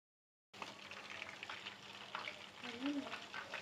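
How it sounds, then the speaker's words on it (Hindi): Boneless chicken pieces deep-frying in hot oil, a steady close crackling sizzle that starts after a short silence and continues evenly, with a brief bubbling swell near the end. "बाकी के पीसेस भी हम जल्दी से फ्राई कर लेंगे।"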